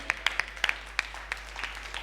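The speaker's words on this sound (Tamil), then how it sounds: "கைத்தட்டு." A church congregation claps in a sparse, uneven scatter of individual hand claps over about two seconds, fairly close and moderately loud against a low hum.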